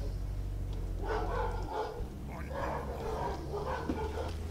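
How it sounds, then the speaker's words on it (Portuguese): Several pet dogs barking and yipping in bursts at home, heard over low background hum behind a strategy game session, somewhat distant rather than right at the microphone. "meus cachorros começaram a latir loucamente"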